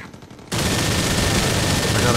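Sustained heavy automatic minigun fire in the R.I.P.D. The Game video game, a dense continuous roar that kicks in abruptly after a brief quieter moment and stays loud to the end.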